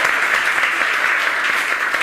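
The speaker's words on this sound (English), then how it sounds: "can you please give a round of applause to Joe?" An audience at a food conference talk applauds loudly and continuously, a thick even wash of clapping with no voices over it.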